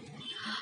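A short dog sound effect in a children's story, a brief whine-like yelp lasting under a second, close and fairly faint.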